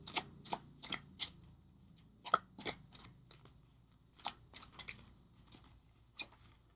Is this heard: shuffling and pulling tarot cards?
yes